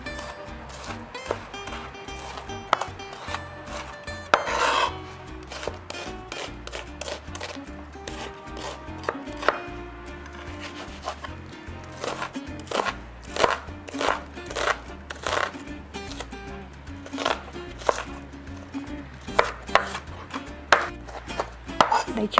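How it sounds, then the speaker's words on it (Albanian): A knife chops peppers finely on a board, producing many quick, crisp taps in an irregular rhythm, sparse at first and then growing denser and faster toward the end. "Që speca të pritet sa më imët."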